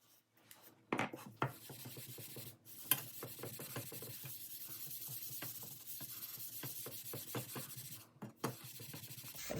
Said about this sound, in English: That didn't even come close to being the same amount of scrubbing